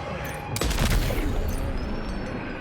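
Burst of gunfire in Death Stranding 2, a loud cluster of shots near the start followed by rumbling battle ambience and scattered fainter reports.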